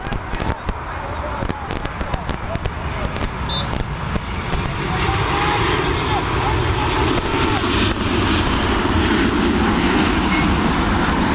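An Emirates airliner touches down at Dublin Airport in the evening, a broad, steady engine roar building and holding loud and sustained, with a commentator's voice talking over the rumble.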